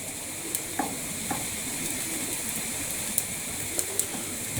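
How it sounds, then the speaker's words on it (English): Bacon and sausages fry in a pan, a steady bright sizzle with occasional small pops and crackles, up close and continuous with no voices. "the fat that's rendering out of the bacon is adding to the sausages, and that's giving it even more flavour"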